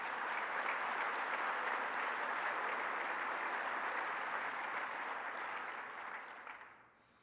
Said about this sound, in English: Another round of applause for all of those agencies.